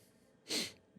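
A single sneeze, one short, sharp burst of breathy noise, moderately loud and close, with a faint snort after it and no talk.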